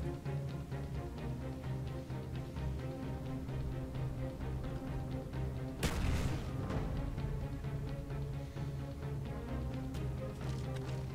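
A frag or Semtex grenade bursts in Black Ops on the Villa multiplayer map: one sharp, loud explosion around the middle, over steady game music and ambience.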